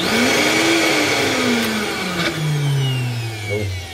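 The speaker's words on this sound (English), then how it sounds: "As long as I don't break the blender" A kitchen blender churns a thick smoothie, a loud close motor whine that shifts and drops in pitch as the mixture bogs down, with faint clunks partway through.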